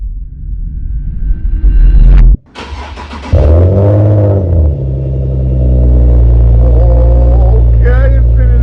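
An Infiniti G37 fitted with a Z1 exhaust cranks and fires up, with a loud starter whir, a sharp catch, then a revving burst that settles into a deep, steady idle rumble close by.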